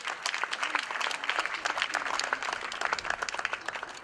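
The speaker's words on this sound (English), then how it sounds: "Let's give him a big round of applause." A crowd at a 2014 Hilton hotel groundbreaking ceremony applauds steadily, the dense clapping filling the whole stretch at an even level.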